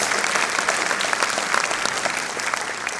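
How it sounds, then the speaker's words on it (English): Steady, dense applause from an audience welcoming a bishop at a 25th anniversary celebration, a continuous wash of many hands clapping at even loudness throughout. "Let's welcome him with a deep round of applause."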